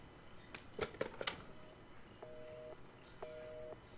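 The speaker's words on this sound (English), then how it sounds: "that's a phone" Ringing telephone in Resident Evil 7, heard as two separate electronic ring bursts in the second half, each about half a second long, moderately loud over dim room ambience, after a few sharp clicks and knocks at the start.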